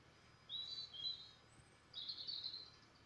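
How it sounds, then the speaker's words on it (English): Two faint high-pitched bird whistles, each trilling for about a second, sound at a distance over a quiet low hum, outdoors at around 4 a.m. "Can you hear them birds whistling?"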